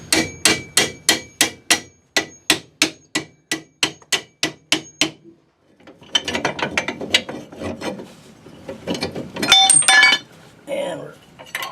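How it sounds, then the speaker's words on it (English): Around fifteen sharp metallic hammer blows ring out in a steady rhythm while work goes on under the rear end of a car on a jack, followed by clattering and some talk. "Do you want that hammer?"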